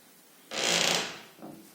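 A door in a Moscow door-installation setting swings open and shut with a loud, sustained creak, followed by a shorter fainter scrape.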